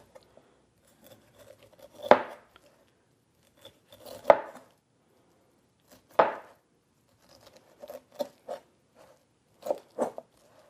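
A knife cuts small spots off a whole pineapple: a few distinct, close, crisp chopping cuts spaced about two seconds apart, followed by a quicker run of lighter cuts, with near silence between them.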